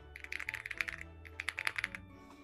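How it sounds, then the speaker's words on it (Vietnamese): A Rainy 75 mechanical keyboard is typed on in two quick bursts, its keystrokes close and creamy with a moderate poppy click, separated by a short pause over a faint background hum. "Rainy 75 có một cái chất âm rất là creamy"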